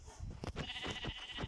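Sheep bleating in a Minecraft-style survival video game, several short repeated bleats in quick succession, close and fairly loud with no talking over them.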